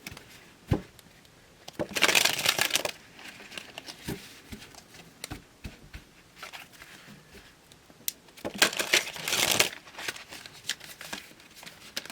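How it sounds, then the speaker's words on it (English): Two bursts of riffling, flapping tarot card shuffles, several seconds apart, with soft shuffling and tapping of cards between them. "I'm just shuffling the cards."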